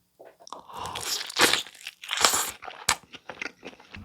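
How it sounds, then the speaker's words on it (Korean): Loud, crisp crunching bites into BHC bone-in sweet chili seasoned fried chicken with crackly texture, several chomps in quick succession close to the mic, no talking. "이게 식감이 엄청 바삭은 아닌데 어 그래도 확실히 바삭함이 군데군데 살아있네요"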